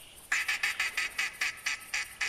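A lone duck in the hunting game theHunter Classic quacks in a quick, regular series of about eleven nasal calls, fairly close and clear over quiet outdoor ambience.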